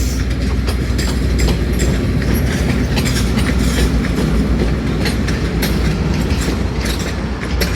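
The Rahman Baba Express rolls through Rawalpindi railway station, its wheels clattering in a rapid rhythmic clickety-clack over a loud, steady low rumble of the passing carriages.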